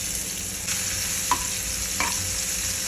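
Onions fry in hot oil with mustard seeds, cumin, asafoetida and garlic, giving a steady, close sizzle broken by a few soft clinks of stirring, with no talking.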